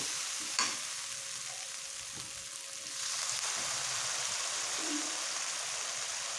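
Steady sizzling and frying of masala for a spicy egg curry, with a brief clatter of stirring early on and the sizzle swelling louder partway through as water is added.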